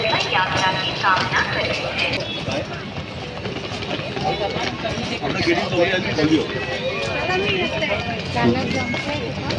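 The Mandovi Express on the Konkan Railway rolls through Kankavli station, its wheels clattering and rumbling steadily while people talk close by.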